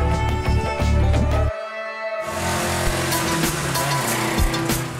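Modified BMW 3 Series race car of about 250 horsepower, its engine note loud and close, dropping out briefly before returning with a droning, revving growl.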